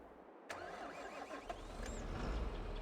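Fendt tractor engines pulling John Deere plows in Farming Simulator 22 kick in after a brief silence, then hold a steady, fairly loud mechanical rumble that swells slightly toward the end, with no voices.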